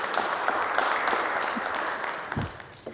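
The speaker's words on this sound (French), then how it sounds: "J'attends vos applaudissements." A small audience claps steadily for about three seconds, a dense patter of hands with a few louder claps near the end, with no talking.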